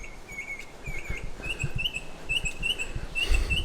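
Birds chirp in a quiet rainforest garden in Toowoomba, Queensland, with repeated short high tweets and trills coming in bursts over soft ambient noise and faint insect buzz.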